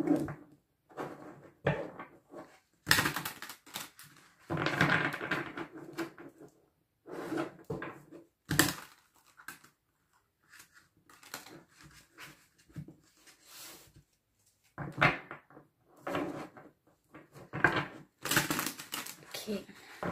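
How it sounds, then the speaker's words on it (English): A deck of tarot cards is shuffled up close in repeated bursts of riffling and slapping, with pauses between handfuls and some rustling in between. "let me shuffle"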